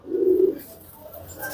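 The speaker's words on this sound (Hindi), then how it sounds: "ये आपको दिखा देते हैं यहाँ पर जो कलसरे कबूतर हैं" Kalsare pigeons, a large-sized pigeon breed, give a short low coo close by, one steady hum lasting about half a second before fading into quiet background.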